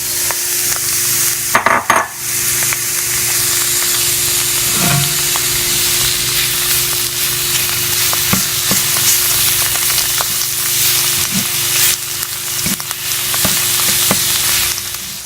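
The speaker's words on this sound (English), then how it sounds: "I'm going to go ahead and add the mushrooms" Mushrooms frying in a pan for a vegan stir-fry, a loud continuous sizzle close by, with occasional scraping stirs and clinks of the utensil against the pan.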